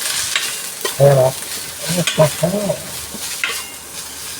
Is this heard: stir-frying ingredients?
yes